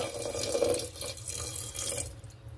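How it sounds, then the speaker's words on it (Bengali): Water poured into a pan of khichdi with tomato and green chilli, a steady splashing pour that runs loud for about two seconds and then tapers off. "পরিমাণ মতো জল দিয়ে দেব"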